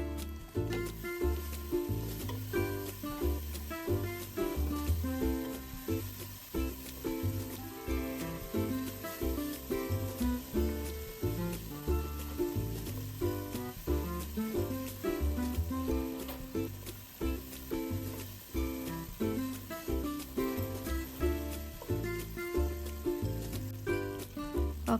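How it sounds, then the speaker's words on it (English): Ginger garlic paste tempers in a pan for semolina upma, giving a steady, continuous sizzle and crackle close up that lasts the whole time, with no talk. "I'm going to add 1 tablespoon of ginger garlic paste and give it a good mix and let it temper"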